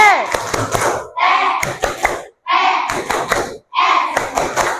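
A sixth-grade class claps a rhythmic chant pattern in bursts, groups of claps mixed with children chanting in unison, three or four phrases separated by short pauses, close and loud.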